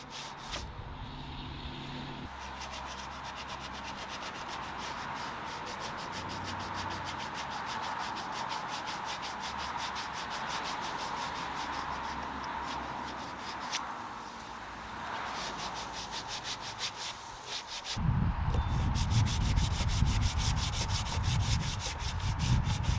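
Light hand sanding on a wooden Empire dresser, a continuous soft abrasive rubbing that carries on steadily and turns louder and rougher toward the end, with no talk.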